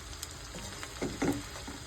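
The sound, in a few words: onions frying with dried chilli and bay leaf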